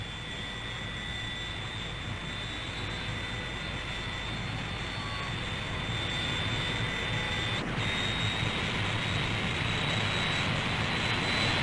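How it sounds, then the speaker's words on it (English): CAC Sabre jet fighters taking off at RAAF Butterworth, Malaysia, in 1960, giving a steady, loud, continuous jet roar that swells slightly toward the end, with a high whine running throughout and no voices. "Quickly, the takeoffs get underway"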